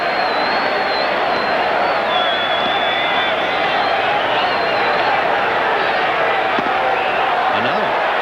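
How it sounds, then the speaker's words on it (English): A baseball stadium crowd at the 1987 All Star Game in Oakland, a steady, loud roar of cheering and whistles that carries throughout, with an announcer talking over it. "Oh, the crowd loves this now"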